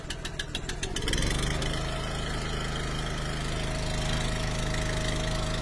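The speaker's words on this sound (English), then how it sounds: "Let's fire up. One pull on the Honda." A Honda engine on a firewood splitter is started with a single pull: a quick rattling pull-start, then it catches and settles into a loud, steady idle close by.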